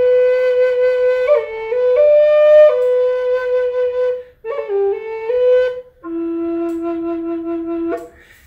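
A Native American five-hole flute plays a slow, breathy melody of sustained notes with small pitch slides, heard up close and alone, with brief pauses between phrases.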